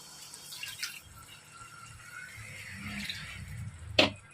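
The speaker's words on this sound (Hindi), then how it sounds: "अब इसमें मैं थोड़ा सा पानी ऐड करूंगी" Water is poured into a pan of cooking daal mash with a soft, close splashing and trickle building over a few seconds, ending in a sharp clink.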